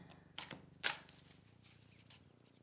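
Large tarot cards are shuffled by hand in a few quick riffling bursts, close and soft, with quiet pauses between them.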